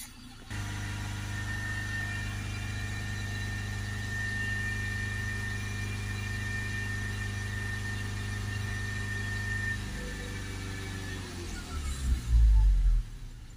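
A diesel car engine idles steadily during a forced DPF regeneration, a constant low hum with a whine layered on top. Near the end it roughens and briefly swells louder.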